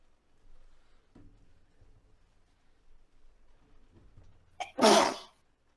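A single sharp, loud sneeze bursts out near the end after a few seconds of quiet room sounds during a tabletop fantasy role-playing session.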